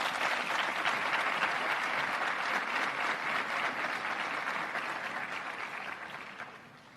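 Broad, dense applause from an audience at an Army officer candidate school graduation, steady and sustained from a large crowd before slowly tapering off.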